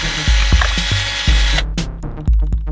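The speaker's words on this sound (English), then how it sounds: "I found this little attachment for my drill." A power drill with a small attachment churns through wet toilet roll, loud and close, its motor whirring in short bursts with sharp ratcheting clicks and knocks, then cutting out and restarting.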